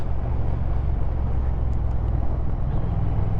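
A car driving on a road on a Sunday afternoon, heard from inside as a steady low engine and road rumble with no speech over it.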